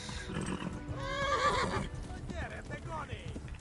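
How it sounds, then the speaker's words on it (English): A horse in Kingdom Come: Deliverance whinnies loudly in a rising, wavering call, followed by shorter neighs and snorts, with hoof clip-clops and game noise underneath. "What's wrong with this horse?"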